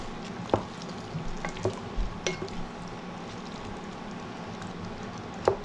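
Butter chicken ingredients seasoned with salt cook in a pan, giving a soft steady sizzle broken by occasional sharp pops and stirring clicks, fairly quiet and without speech.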